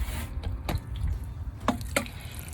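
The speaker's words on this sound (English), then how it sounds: "So what I'm going to do is water this way so it trickles down." Water trickling and dripping onto small garden plants during watering, soft splashes and a few distinct drips over a steady low wash of running water, close and fairly quiet.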